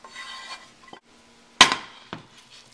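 A spoon scrapes and clinks against a pot while tomato rice with onions, tomatoes and spices is mixed, giving a few sharp metallic knocks with quiet scraping between them.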